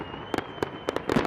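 Fireworks bursting amid street disorder on a housing estate in Edinburgh, a rapid series of sharp cracks and bangs in uneven clusters, fairly close, over a rumbling crowded background.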